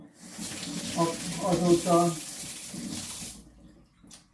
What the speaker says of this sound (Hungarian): meleg vizet folyatok